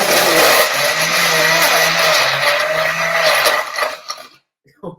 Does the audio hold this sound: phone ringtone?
no